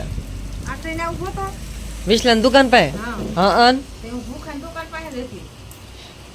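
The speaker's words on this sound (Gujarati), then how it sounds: "વરસાદ અત્યારે ચાલુ થઈ ગયો છે" Steady rain hisses throughout as a soft, even wash of noise beneath people talking close by.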